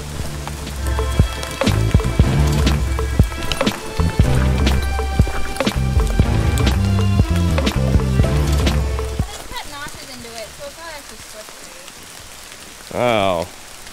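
Heavy rain patters densely on leaves and surfaces during a hike at Arenal Volcano, Costa Rica, a loud, close, continuous drumming that fades after about nine seconds. A voice speaks briefly near the end.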